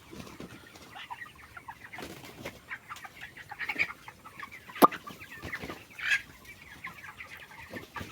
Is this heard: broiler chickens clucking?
yes